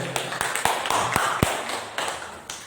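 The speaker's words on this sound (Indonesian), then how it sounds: "Tepuk tangan untuk kita semuanya." Scattered hand claps from a small group at an Indonesian teacher training presentation, a loose handful of sharp, uneven claps close by rather than a dense ovation.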